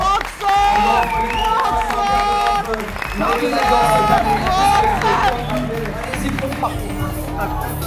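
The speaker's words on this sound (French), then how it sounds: "Un tonnerre d'applaudissements pour Axel Souza Pintori." At a WNBF France bodybuilding competition, the crowd breaks into loud applause and cheering for a competitor, dense clapping with scattered shouts as an announcer talks over it.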